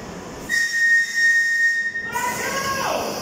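London Underground train pulling into Caledonian Road, its wheels squealing on the rails in sustained high-pitched tones that shift in pitch partway through, with a steady hiss of station noise underneath.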